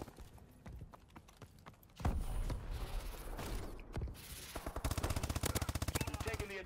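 Rapid bursts of MP11 submachine gun fire in a first-person shooter video game, with a dense fast rattle of shots that swells loud in the second half amid other game effects.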